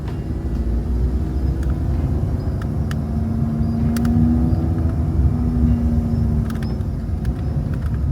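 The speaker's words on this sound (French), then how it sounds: "Ah, camion là." A truck rumbles past close by on a road, a steady low roar that swells to a peak midway and then slowly fades, heard alone with no talking.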